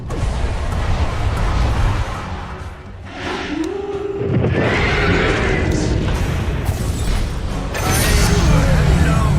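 A horse steed from the Dota 2 video game neighs loudly and close, with a rising and falling whinny over busy in-game battle noise, clattering impacts and a voice speaking.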